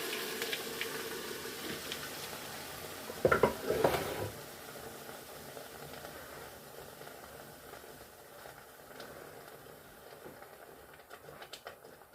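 Blended pepper hits warm palm oil in a pot with a brief loud burst of sizzle and stirring clatter, then settles into a soft, steady frying hiss that fades lower over the following seconds.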